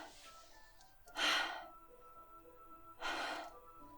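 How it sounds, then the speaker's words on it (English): Two sharp inhales, like air sucked through teeth, break a quiet hum in the Doki Doki Literature Club video game. They sound close and breathy, about two seconds apart. "It sounds like breathing. A sharp inhale, like someone sucking the air through their teeth."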